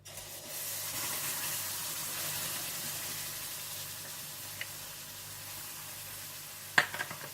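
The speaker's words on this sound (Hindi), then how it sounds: "सबसे पहले बारबेक्यू हनी सॉस बनाने के लिए आप सारी चीजों को एक पैन में डालकर पका लीजिएगा" Barbecue honey sauce made from barbecue sauce, honey, soy sauce and black pepper cooks in a pan, giving a steady soft sizzle with a faint bubbling hiss, a light clink near the end, and no voices.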